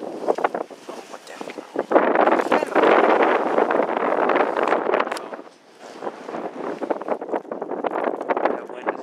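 Wind gusts buffet the microphone out on a lake while fishing, a roaring rush that swells and eases over several seconds, with a person talking now and then.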